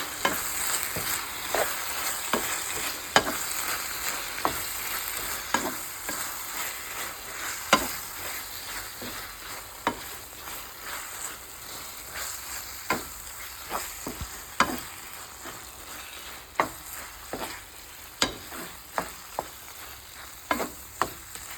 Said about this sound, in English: Let's stir all of this together.